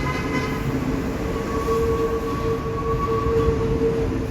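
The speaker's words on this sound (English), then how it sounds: "Oh, look, a J train." An R143 subway train on the New York J line rumbles past Alabama Avenue station, a loud steady roar of wheels on rails with a thin squealing tone rising partway through, no talk.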